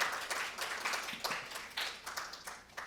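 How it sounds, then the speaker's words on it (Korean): Audience applause rings out in a conference hall at a national assembly policy forum on shipbuilding and defense industries, welcoming the next presenter; steady clapping from a crowd, moderately loud and continuous. "큰 박수로 맞이해 주시면 감사하겠습니다"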